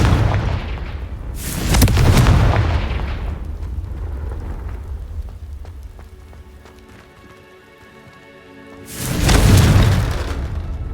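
Confringo blasting spell explosions in the Hogwarts Legacy video game: two heavy booming blasts, one near the start and one near the end, with rumbling decay and quieter crackling debris between them.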